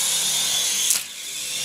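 A Syma S111G RC helicopter's small electric motor whines at a steady high pitch, rising briefly as the throttle is nudged and then settling back, close to the microphone with no talk.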